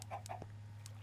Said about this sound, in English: I hear the chickens.